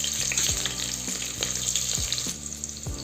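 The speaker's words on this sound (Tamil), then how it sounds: "வெங்காயம் கொஞ்சம் வதங்கினோன்னே தக்காளி போட்டுக்கலாம்" Onions sautéing in hot oil with cumin and dried red chillies for a Tamil spinach curry, a steady close sizzle with soft stirring scrapes, no talking.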